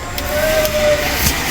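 The cooling blower fan of a 68,000 W inverter runs during a load test with a 1K load connected, giving a steady, close whirring hum with a faint tonal whine throughout.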